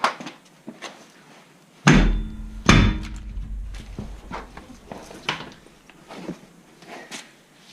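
A hammer strikes the back of a scored rear brake rotor on a 2010 Toyota Camry, two loud heavy metallic bangs a second apart amid smaller clanks and shop handling noises.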